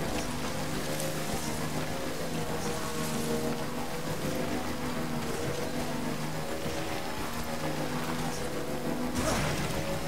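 Steady rain falling in the video game Death Stranding, a dense continuous patter of drops with occasional louder splashes, close and unbroken throughout with no talking.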